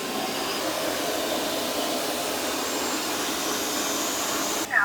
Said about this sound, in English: so far it's doing a pretty good job sweeping and mopping